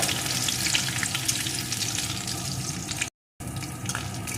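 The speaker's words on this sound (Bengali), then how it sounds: "চারটে রসুনের কোয়াকে কুচিয়ে রেখেছিলাম সেই রসুনের কোয়া সাথে দিয়ে দেবো একটা কাঁচা লঙ্কা কুচি এখন এগুলোকে একটু ভেজে নেব" Chopped garlic and green chili sizzle steadily in hot oil in a pan, a dense continuous frying hiss with faint stirring, broken by one brief silent gap.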